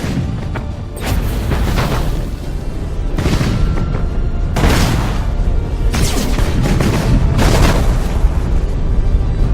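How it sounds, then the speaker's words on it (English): Broadside macro cannons firing in the space-combat game Battlefleet Gothic Armada: a series of about six heavy booming salvos in irregular bursts, loud and close, each rolling into a rumbling tail. "Broadside macro cannons ready to fire on your order, sir."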